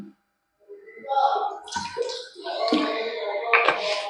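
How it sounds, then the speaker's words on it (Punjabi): Cold water is poured over a hot pressure cooker, giving a close, uneven splashing and gushing sound with a few sharp clatters, and a voice may be faintly mixed in. "ਥੋੜਾ ਜਿਹਾ ਠੰਡਾ ਪਾਣੀ ਪਾ ਲਾਂਗੇ"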